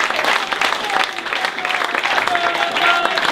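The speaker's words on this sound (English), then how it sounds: "a round of applause to our management and players" A football club audience at an awards evening breaks into loud, dense applause for the management and players, a steady close wash of clapping with a few voices mixed in.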